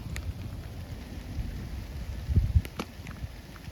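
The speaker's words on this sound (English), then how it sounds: "Okay, it's sprinkling." Light rain sprinkles outdoors on the Appalachian Trail, a soft, steady hiss with a few sharper taps and a brief louder thump near the middle, and no talking.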